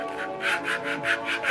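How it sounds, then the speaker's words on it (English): A foot scrubber rubs against bare feet in quick, regular scratchy strokes, about six soft rasping passes in under two seconds, close and fairly quiet. "while using my foot scrubber"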